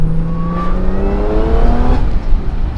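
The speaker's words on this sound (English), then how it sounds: "You can hear the supercharger, I think, but they heard the supercharger." Supercharged Dodge Hellcat engine revving steadily, with a rising whine over a continuous loud drone, close by and with no talk.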